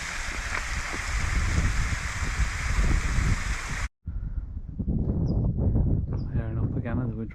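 A waterfall on Scafell Pike gives off a loud, steady rushing roar. After a brief cut it goes on more quietly beneath someone speaking outdoors.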